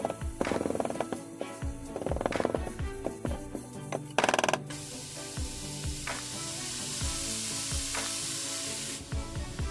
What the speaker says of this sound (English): I'm just going ahead and stirring this around, breaking it up a little bit more so that we can get it nice and browned